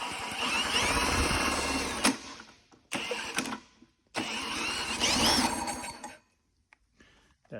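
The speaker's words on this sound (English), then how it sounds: "I'm gonna spin it over with a drill and see if the rings come out at all" A drill spins over a go-kart engine in a few loud bursts, whirring and chugging for a couple of seconds each with short pauses in between, close by and alone.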